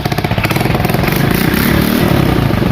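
A Ninja motorcycle's engine runs steadily close by, loud and throbbing with rapid, even firing pulses and no revving.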